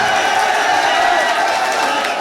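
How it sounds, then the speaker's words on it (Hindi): Continuous crowd noise from an audience at an all-India Urdu poetry mushaira in Siwalkhas, Meerut, a steady wash of clapping and cheering with no pauses, loud and close throughout. "एक बार जोरदार तालियां बजा के।"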